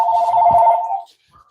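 A telephone rings up close and loud with a warbling electronic trill that lasts about a second and then stops. No one speaks over the ring.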